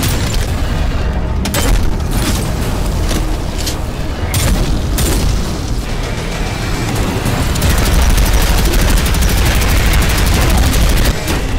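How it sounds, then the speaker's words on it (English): Heavy weapon gunfire from the fast, gory first-person shooter Prodeus, loud and dense, with rapid blasts and booming impacts over a continuous rumbling game soundtrack throughout. "The weapon sounds all have a good amount of heft to them."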